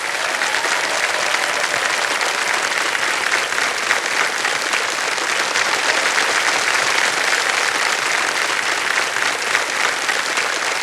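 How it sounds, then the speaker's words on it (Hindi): A KBC studio audience applauds in a steady, sustained roar of clapping that holds evenly for about ten seconds, close and full, with no talk over it. "ताली बजती रहे"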